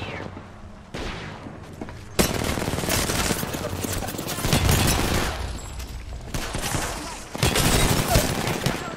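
Rapid bursts of automatic gunfire and explosive shots in a multiplayer video game shooter, loud and dense with sudden onsets, dense volleys overlapping throughout with a voice talking intermittently.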